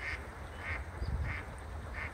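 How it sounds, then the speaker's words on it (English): Duck quacking near a river, four evenly spaced nasal calls at a moderate distance over steady outdoor background noise. "You hear a duck in the background."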